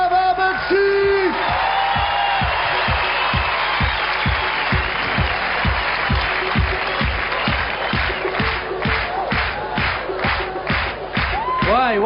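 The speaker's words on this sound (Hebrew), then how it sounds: "בואו נקבל עם מחיאות הכפיים שלכם, נדב אבקסיס!" Comedy-show crowd in Caesarea clapping and cheering to welcome a comedian on stage, loud applause with whoops at first, then settling into rhythmic clapping in unison.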